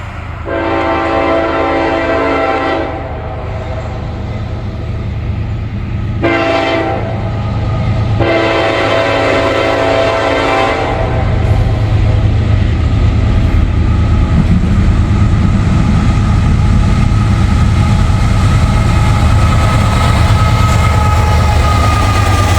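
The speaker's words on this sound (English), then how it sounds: "Anyways, we got a train coming." A train passes on a misty, rain-damp morning, its horn sounding in three long loud blasts near the start. Then the low rumble of rolling cars builds and holds steady, close and loud.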